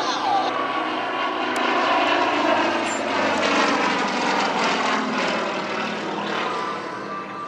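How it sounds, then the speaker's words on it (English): Aerobatic air show planes from the Red Thunder team dive past at high speed, a loud, continuous propeller-engine roar that swells and holds close overhead, with no talking. "2 more diving down, high speed."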